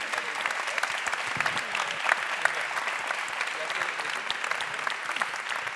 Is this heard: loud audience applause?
yes